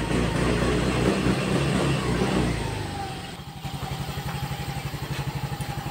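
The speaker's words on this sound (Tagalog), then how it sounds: "habang umaandar pa itong ating motor" A motorcycle engine revs loudly, then settles into a steady, rapid idle thump close by.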